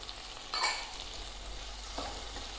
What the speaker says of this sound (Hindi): ये देखिए प्याज हमारा फ्राई हो रहा है यहाँ पे।